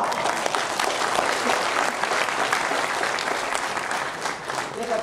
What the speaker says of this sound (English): Big applause to you.